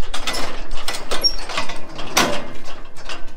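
Arrowquip cattle handling chute locking mechanism clanks and ratchets shut, a loud metallic latch among rattling steel parts with one sharp bang near the end.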